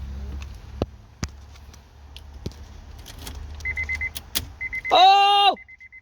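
Honda car ignition turned with a newly cut key: scattered clicks and key jangles, then soft chimes and beeps, followed by a short rising-and-falling electric whine like a starter or motor, then more beeping.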